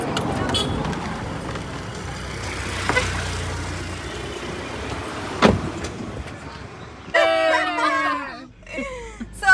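A car driven on a monsoon road trip near Mulshi Lake and Tamhini Ghat, with a low steady road and engine rumble throughout and a sharp knock midway. Voices talk over the ride near the end.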